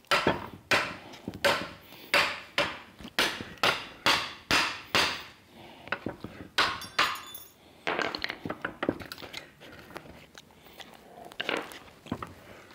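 A pry bar works on parts of a 1934 Ford coupe, giving a run of sharp metallic knocks and clinks, evenly paced at first, then more scattered taps and scrapes.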